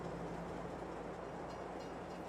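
A freight train rolls along in the Farming Simulator 22 video game, a faint, steady rumbling drone with no distinct beats, heard alone.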